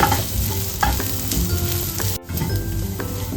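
Kashmiri chilli powder, turmeric and garam masala sizzle in a pan while a spoon stirs them, with a steady close frying crackle and scraping strokes, briefly cutting out once, and no voices.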